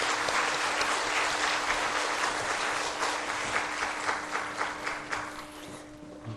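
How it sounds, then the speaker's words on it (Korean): A church congregation applauds during a Korean worship service, dense rapid clapping from many hands filling the room at an even level, easing slightly toward the end over a faint steady hum. "하나님께 영광의 박수 올려드리겠습니다"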